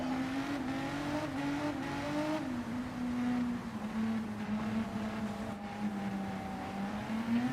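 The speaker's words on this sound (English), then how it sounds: "Hear the feathering of the throttles just to stop these cars from spinning around on the spot" GR3 race cars at the Nürburgring Nordschleife with throttles feathered through turns, a continuous close engine note wavering up and down in pitch as the revs rise and dip, with no talk.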